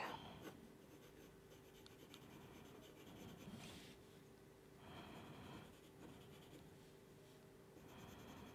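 Colored pencil burnishing a horse's leg on paper, a steady close scratchy rubbing in repeated strokes with brief pauses, heard alone.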